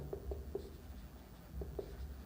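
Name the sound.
writing by hand while solving a maths problem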